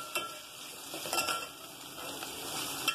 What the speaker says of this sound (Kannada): ಈರುಳ್ಳಿ ಮತ್ತೆ ಹಸಿಮೆಣಸಿನ ಹಾಕೋತೀನಿ ರೀ ಹಾಕೋಣ ಸ್ವಲ್ಪ ಹೊತ್ತು ಫ್ರೈ ಮಾಡಿವು ಕೆಂಪು ಆಗತ್ತಕ